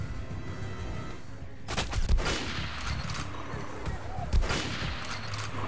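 Gunfire in the video game Metro: Last Light during a boss fight, a dense fusillade of loud shots with two heavier booming hits, continuous throughout with no talk over it.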